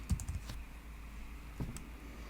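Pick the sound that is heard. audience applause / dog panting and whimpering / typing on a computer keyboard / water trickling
typing on a computer keyboard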